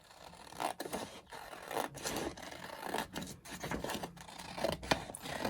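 Scissors cut out a paper craft piece indoors, a close run of scraping, rasping snips repeating irregularly with no voices.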